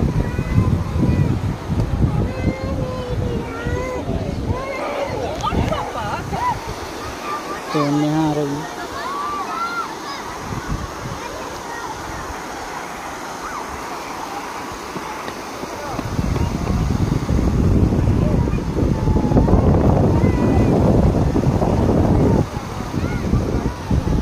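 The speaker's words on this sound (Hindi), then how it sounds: "यहाँ से पानी गिर रहा है।" Water pours and rushes steadily at Brindavan Gardens, a continuous broad wash with a stretch of close voices in the middle before the torrent swells louder again.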